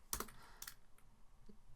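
A few quick computer keyboard keystrokes while commands are entered into a Cisco router in Packet Tracer: a short cluster of clicks, then a pause and a couple of fainter taps, close and quiet.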